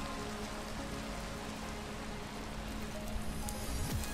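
Steady rain falls in the Minecraft world of the SevTech: Ages modpack, a dense, even hiss of drops lasting throughout with no talk.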